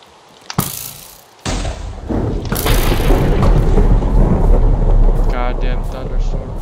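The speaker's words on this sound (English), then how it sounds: "Goddamn thunderstorm." A thunderstorm in the video game Minecraft rolls in with a sharp crack followed by a heavy, sustained low rumble and steady rain-like hiss that persists loudly to the end.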